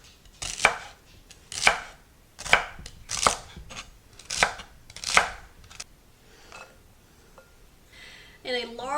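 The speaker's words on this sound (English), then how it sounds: "Now I'm going to cut these like I did the carrots" A knife slices vegetables on a cutting board for chicken noodle soup, six or seven sharp, close, evenly spaced chops separated by short pauses, then a faint scrape or clatter near the end.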